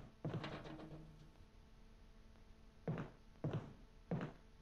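Zombies banging on a door in Resident Evil, a few dull thuds: one early burst, then three spaced knocks near the end, muffled and faint against quiet surroundings.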